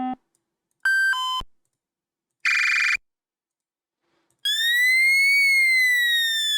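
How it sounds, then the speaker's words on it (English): Synthetic fire alarm tones in the Stormworks ship-building game: a short buzz, two electronic beeps, a harsh burst, then a loud sustained whooping siren tone, with silent gaps between. "Is this a fire alarm sound?"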